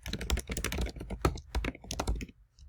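Fast typing on a computer keyboard, a dense run of crisp close-up clacks in quick bursts that thin out and stop near the end.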